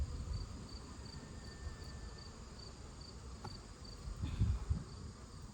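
Honey bees buzzing around an open hive during a late-summer inspection, a faint steady drone with a regular high chirping pulse over it and a brief louder buzz near the end, as if a bee passes close.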